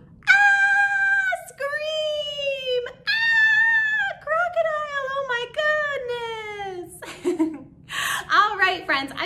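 Children scream and shriek together in long, high, wavering cries, loud and close, with short breaks and excited voices near the end.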